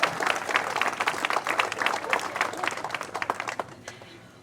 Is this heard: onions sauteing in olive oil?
no